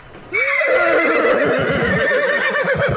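An angry horse in an audio drama lets out a loud, close, drawn-out whinny that wavers and shakes, with light hoof clatter beneath it.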